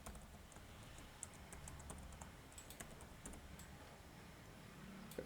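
A password is typed on a computer keyboard during a MySQL 8.0 install on Windows 11. Faint, close key clicks come in an uneven run over quiet room hiss, with no voices.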